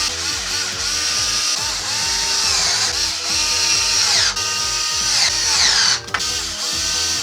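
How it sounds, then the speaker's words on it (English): Power driver running screws back into an HP Omen 25 desktop PC on a workbench, a steady whirring drive with short bursts and pauses across the whole stretch, close and fairly loud. "let's start putting screws back in"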